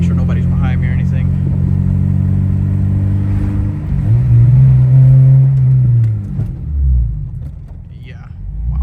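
Eighth-generation Honda Civic Si on the road, a low steady engine rumble from inside the car that swells briefly as it picks up speed, then settles back down near the end.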